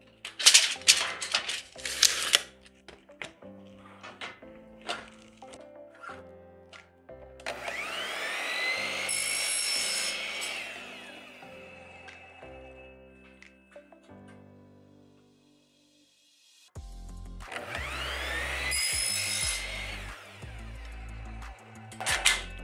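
A power saw cuts a line 25 door frame profile to length, making two separate loud, whining cutting passes with quieter clattering handling between them.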